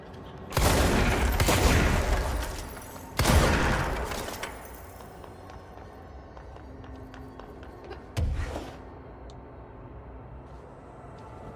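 Gunfire and blasts in the video game Control: two heavy, loud bursts of fire in quick succession that decay slowly, then a quieter stretch and one more sharp blast later, with no talking.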